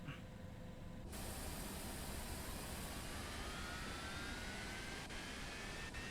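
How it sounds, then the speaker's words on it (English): The right jet engine of a Citation X in a flight simulator spools up into a steady, broad roaring hiss with a faint rising whine, sustained and fairly quiet throughout. "Engines are starting up. At least the right side engine is starting up."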